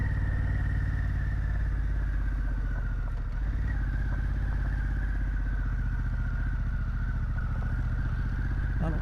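A motorcycle engine labors steadily up close climbing uphill on a mountain trail, a loud, even drone with mechanical clatter and no voices.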